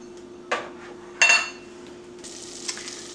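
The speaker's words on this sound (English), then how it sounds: "We're gonna start with 2 tablespoons of butter and melt it." Butter melting in a pan to start a roux gives a low, steady sizzle, broken by a few clinks and scrapes of a utensil against the pan; no talking.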